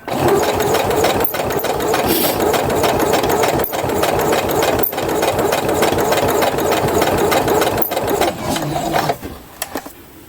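A sewing machine runs steadily, stitching through four or more layers of fabric on a welder's cap, with a loud close mechanical whir and brief pauses before it slows and stops near the end.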